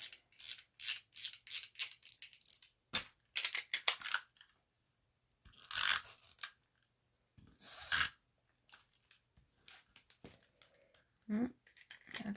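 A malfunctioning tape runner clicks and rattles in short bursts while tape is applied during card making, quiet and close, with pauses between the mechanical snaps.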